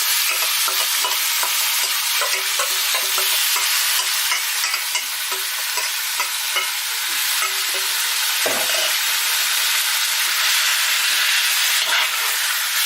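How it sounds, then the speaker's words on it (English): Pork hitting hot coconut oil in a pot, a loud, steady sizzle and crackle filling the whole stretch up close, with a few soft scrapes of stirring and no voices. "into my pot goes some coconut oil, about 3 tablespoons, and as soon as that's ready, in goes the pork"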